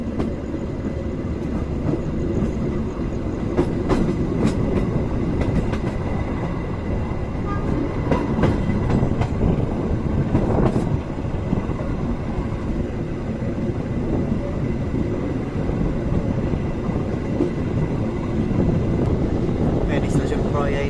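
The Jakatingkir New Generation passenger train rolls along the rails between Solo Purwosari and Purwokerto with a continuous loud rumble and faint rhythmic clicks, heard from inside the carriage, with someone talking over it.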